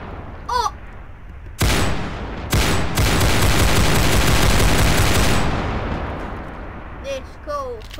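Beam rifle firing in People Playground, a loud sustained burst of blasts lasting several seconds, preceded and followed by short sharp bursts, with a brief tone-like sound at the start and end.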